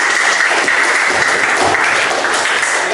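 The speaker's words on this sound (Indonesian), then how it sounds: "Tepuk tangan dulu" An audience claps during a teaching session on linear regression, dense continuous applause filling the room, loud and steady with no talk on top.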